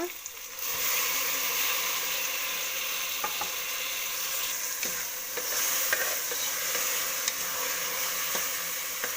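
Tomato and dal are stirred in oil in a pan for a greens sambar, a steady close sizzle with faint scraping strokes and occasional clicks running throughout.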